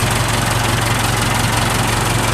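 The engine of a Ford tractor with an 8x2 gearbox and high-low range idles steadily with a low, constant drone, loud and close, while gears are changed without stopping.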